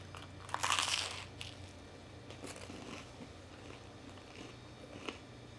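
Close crunchy bites and chewing of food topped with mozzarella cheese, a loud burst of crunching early on followed by softer intermittent chewing sounds.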